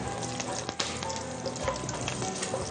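Raw peanuts frying in a pan, a close, dense crackling sizzle with occasional stirring scrapes, continuous throughout.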